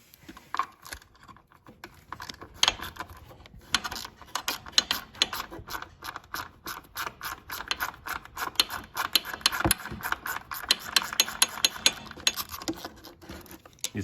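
A ratchet clicks rapidly in irregular bursts while backing out a 10 mm bolt during engine removal on an Audi 2.0T, close and fairly quiet, with no talking.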